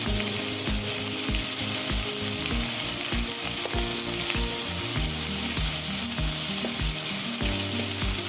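Spring onion leaves, chili and chopped garlic frying lightly in oil for pasta, a dense steady sizzle under a loud, rhythmic low-pitched musical backing.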